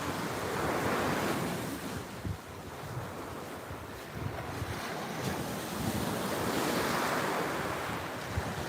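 Ocean surf washing onto a beach on a morning walk, a steady broad roar of breaking waves with swells rising and easing, mixed with wind buffeting the microphone; no voices.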